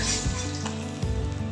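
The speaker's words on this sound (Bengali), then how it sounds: "মাছগুলো আমার ভাজা হয়ে গেছে, এবার আমি তুলে নেবো।" Sangkor fish frying in hot oil gives a steady, close sizzle with a faint clink of a utensil, over a soft musical backdrop.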